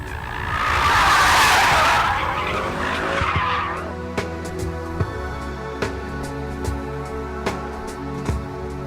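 A black Mercedes-Benz C63 AMG Coupe screeches its tires in a loud, broad skid that swells and fades over a few seconds, followed by the engine burbling at idle with sharp intermittent clicks and pops.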